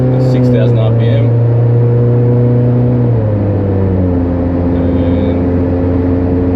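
Suzuki Jimny fitted with a 2.5 inch exhaust and extractors pulling hard at full throttle, a steady droning engine note climbing through the revs, then dropping after a shift, recorded from inside with a voice talking over it.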